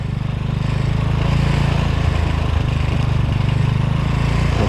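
A motorcycle engine idles and then runs steadily as a learner rider eases out the clutch in first gear and pulls away. A loud, continuous low rumble holds throughout with no talk.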